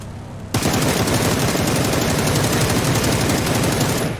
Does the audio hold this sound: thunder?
no